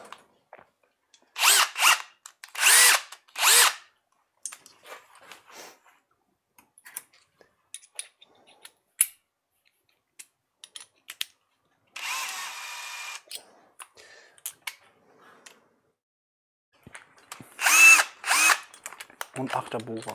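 A Bosch GSR drill fitted with an 8 mm bit runs in several short, loud bursts separated by quiet gaps, with a longer buzzing stretch midway and softer clicks and handling noises between runs.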